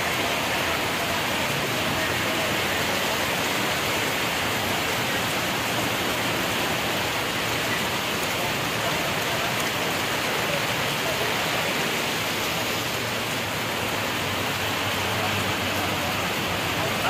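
Heavy rain pours in Alephata, a dense, continuous roar of water on surfaces at steady loudness, with faint voices now and then beneath it.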